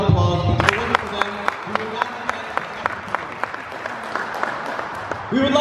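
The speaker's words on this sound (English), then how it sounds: "Please give them another round of applause." Applause for the referees and linemen at a badminton tournament prize ceremony in a gym, a crowd clapping steadily for several seconds with some voices underneath and a sharp rise in clapping right at the end.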